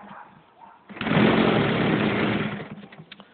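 A small engine that may be low on fuel catches and runs with a buzzing, uneven drone for about a second and a half, then fades and sputters away.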